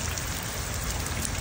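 Steady rain falls on a surface outdoors on a Sunday afternoon, a dense, even hiss with no pauses, fairly close and uniform throughout.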